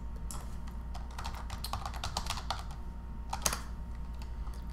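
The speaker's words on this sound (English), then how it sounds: "You're going to put in your username and password." Computer keyboard typing at a desk as a username and password are entered for a web login, a quiet sequence of irregular key clicks in short bursts with a low steady hum beneath.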